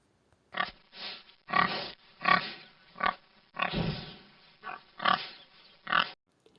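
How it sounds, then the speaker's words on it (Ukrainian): A pig grunts and oinks in a series of short, rough bursts, about ten in a row with brief pauses between them, close and clear. "Здогадались, чий це голос? Так, це свинка."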